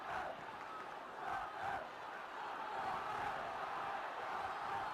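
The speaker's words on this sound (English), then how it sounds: "Well, there are the Tottenham supporters" Tottenham supporters at a 1970–71 football match against Manchester United: a distant, roaring crowd chanting and swelling in waves, sustained throughout.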